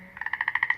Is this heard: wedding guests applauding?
no